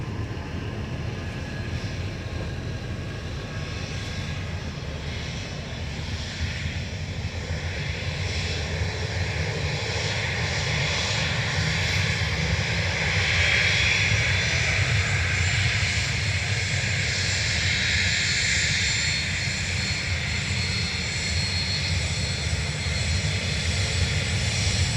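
A fixed-wing airliner taking off from runway 28 right at Dublin Airport gives a steady, broad engine roar that holds strong for the whole stretch, swelling slightly in the middle, with no voices over it.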